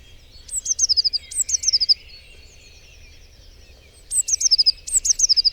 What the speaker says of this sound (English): Ah, the blue tits back.